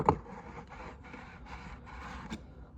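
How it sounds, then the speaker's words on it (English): Espresso grounds are tamped and twisted in a Flair Pro 2 brewing chamber, giving a soft, close rubbing and scraping texture with a faint knock at the start and a small tap near the end. "We're gonna tamp down here."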